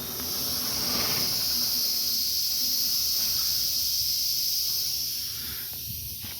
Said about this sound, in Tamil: இந்த வேக்கம் கிட்ட இருக்கு பாருங்க, இதில் கீழே ஏர் லைட்டாக லீக் ஆகிட்டு இருக்குங்க